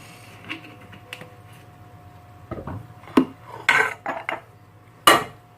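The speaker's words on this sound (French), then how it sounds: "Donc on va mettre nos boules dessus à froid" Kefta meatballs are set into a cold frying pan, producing sparse, close clinks and scraping taps of metal and utensils against the pan, separated by quiet gaps.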